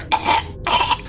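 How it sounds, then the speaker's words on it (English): Two harsh dry coughs in quick succession from a person choking on heavy dust stirred up in a small coat room, close and fairly loud with a brief pause between them. "you cough from the heavy dust that stirs into the air as soon as you open the door"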